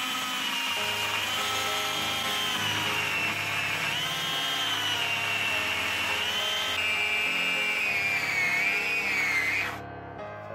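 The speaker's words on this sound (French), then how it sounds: "je vais en profiter pour passer un petit coup de ponçage là-dessus" A power sander whines steadily at close range while sanding a surface that gives off a burning smell and smoke, the high motor tone wavering in pitch for about ten seconds before cutting off abruptly.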